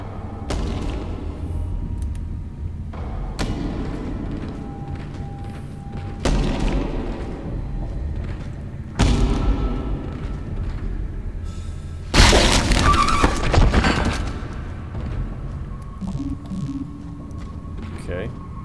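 Heavy smashing blows land on a head in the sci-fi horror game Dead Space: several loud, sharp crunching impacts spaced a few seconds apart over game ambience, with a voice talking now and then.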